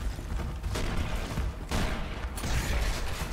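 Gunfire in the video game Gears of War, loud sustained rattling bursts with a few sharper cracks, over a dense battle din.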